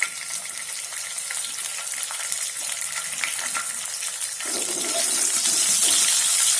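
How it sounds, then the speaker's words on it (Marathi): Green chillies drop into hot oil with golden-browned garlic for an okra dish. A steady, close frying hiss swells into a louder, fuller sizzle partway through, with no talking. "आता याच्यात आपण आपल्या हिरव्या मिरच्या टाकून घेऊया"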